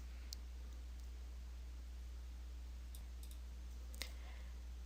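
A mouse click on a software refresh button, heard as a few sharp, quiet ticks spread over several seconds against a low steady hum, with no talking.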